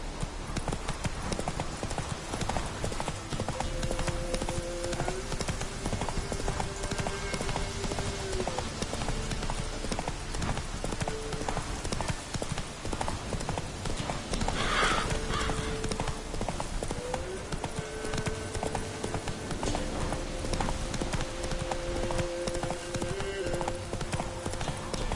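Roach, the horse in the video game Witcher 3, gallops with steady, rapid hoofbeats that run the whole time, close and loud over a constant bed of sustained tones.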